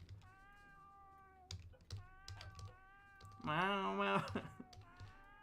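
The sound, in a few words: cat meowing in the room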